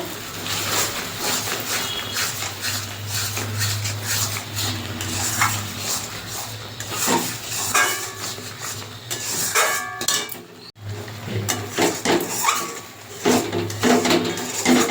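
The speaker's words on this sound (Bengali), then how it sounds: "কন্টিনিউতে নাড়তে হবে, না নিচে ধরে যেতে পারে।" A spoon stirs and scrapes spice masala around a pan while cooking butter paneer, giving irregular metallic clinks and scraping strokes over a faint sizzle, with no talking.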